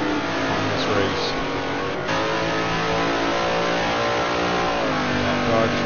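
A Dodge Dart race car in a historic Trans Am racing video game at Sears Point revs hard and steadily, a continuous loud engine drone with rising and falling pitch throughout.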